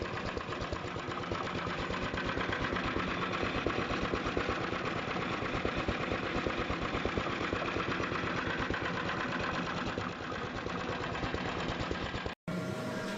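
A vintage Deutz MA 514 engine runs steadily with a fast, even mechanical chugging, loud and close, holding the same pace throughout before cutting off abruptly near the end.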